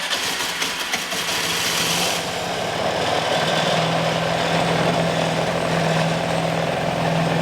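A Vespa GT200 scooter engine turns over and catches after about two seconds, then settles into a steady, close, loud idle with a constant low hum and no talking.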